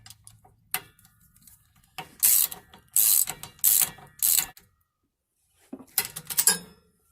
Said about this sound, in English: I'm just doing up the nuts on the flanges for the universals